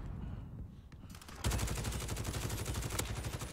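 Rapid automatic gunfire in the video game Call of Duty Warzone, a dense, loud stream of shots after a brief lull with scattered pops.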